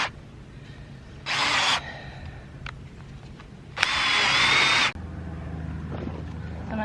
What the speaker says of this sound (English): Drill all this up with that drill.